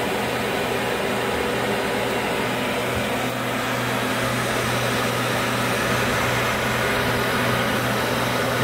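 Digritter ultrasonic LP record cleaner running its drying cycle, giving a continuous, even fan-like whoosh with a low steady hum, close and unbroken throughout.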